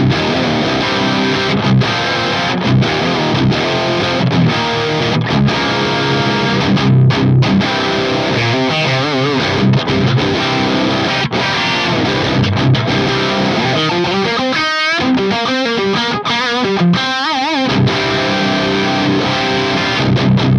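Les Paul style STR LJ1 guitar with PAF humbuckers is played through the FAS AX8's EVH 5153 50-watt blue amp model at stock settings into a V30 cabinet impulse, giving a thick distorted tone with sustained chords and riffing, continuous and upfront.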